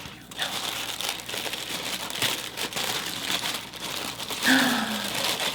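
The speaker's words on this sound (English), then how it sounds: "Tissue paper." Tissue paper crinkles and rustles up close as a gift box is unwrapped, in a run of soft, crisp crumpling bursts that go on throughout.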